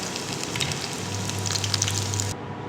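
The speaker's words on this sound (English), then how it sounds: "sizzling in fryer" Six ham and cheese dumplings sizzle in a deep fryer, a steady broadband crackle of hot oil with fine popping, close and continuous until it cuts off near the end.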